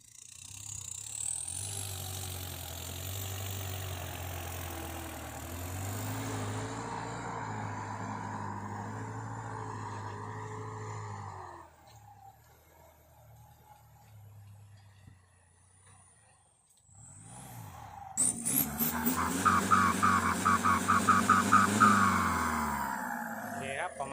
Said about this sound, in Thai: ชุดเทอร์โบถอนคันเร่งดัง